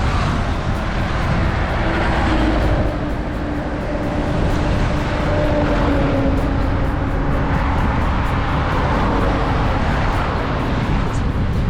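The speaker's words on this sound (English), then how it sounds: "Bus after truck after bus after truck." Heavy traffic of trucks and buses rolls past on a road between Bavet and Neak Loeung in Cambodia, a continuous loud roar of engines and tyres with swelling passes and no pauses.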